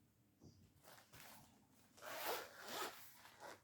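A zipper on the bag of a knitting needle set is pulled in a few short rasping strokes, close and fairly quiet, with the longest, strongest pull near the end.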